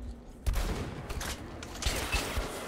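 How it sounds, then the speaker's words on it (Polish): Gunfire from the video game Metro: Last Light Redux, a burst of several sharp, heavy shots over a dark rumbling game background, with two louder cracks toward the end. "Tak z takiej lupy dostajecie strzał."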